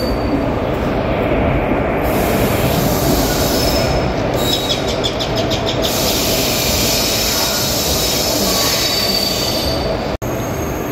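Train pulling into platform 3 at a railway station on a Pongal special service from Thoothukudi to Tambaram, with loud, continuous wheel squeal and rumbling rolling stock close by, no voices.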